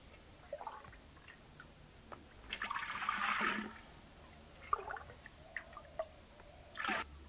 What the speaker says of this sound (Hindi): इसकी सहायता से हम मटके में पानी डालेंगे।